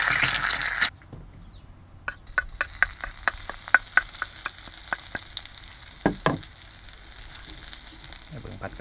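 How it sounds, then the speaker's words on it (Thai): A fried egg cooks in a pan of hot oil, with a loud burst of sizzling at the start, then quieter frying broken by a run of sharp, close crackles and pops. "ทอดไข่ดาวแป๊บนึงครับผม"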